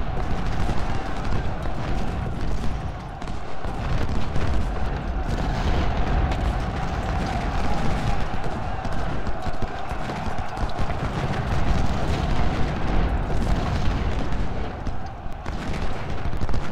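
Continuous massed musket volleys mixed with deep artillery booms roll on in a Civil War battle in the strategy game Ultimate General: Civil War, forming a dense, unbroken din of distant gunfire with no clear talk.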